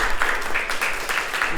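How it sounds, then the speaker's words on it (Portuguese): Applause from the audience at an academic round-table as a professor is introduced; steady, moderately loud clapping from a room full of people. "Uma salva de palmas."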